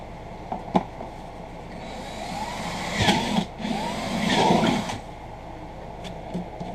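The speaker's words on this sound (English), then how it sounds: "Drill me a hole right there." A power drill with a 1/4 inch bit boring a hole through the side of a plastic cooler, a steady whirring drone that rises into two louder bursts of cutting midway, with no talk.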